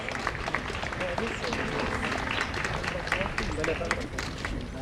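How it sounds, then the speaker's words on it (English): Clapping from a crowd at a Nairobi technical training institute graduation for award recipients, a dense, continuous patter of many hands with murmuring voices mixed in throughout. "Clap for this recipients of this award."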